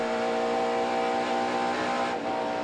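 NASCAR race car in the DuPont Centauri machine at Calder Park Thunderdome oval, a loud sustained engine drone with steady harmonic pitch from onboard, flat out with no voices.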